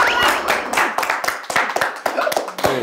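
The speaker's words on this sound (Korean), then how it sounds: "충분히 박수!" Brisk, loud clapping from a small studio audience on a Korean TV program, with sharp irregular claps filling the whole stretch and a few faint voices underneath.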